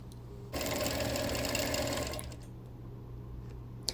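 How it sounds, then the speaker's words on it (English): Sewing machine stitching a vintage flying geese quilt with feather quilting, a rapid close mechanical whir running for about a second and a half before stopping, then a quiet pause with a small click. "stitching a little bit and scrolling up, pinning, stitching some more, scrolling up"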